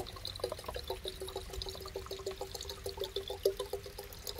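White vinegar pours steadily into a container already holding water, a continuous gurgling trickle with small splashes, fairly close and without any talking.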